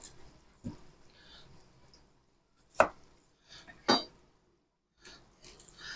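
A knife chops onion into big chunks on a board for a Dublin coddle stew, with a few sharp, widely spaced chops in an otherwise quiet kitchen.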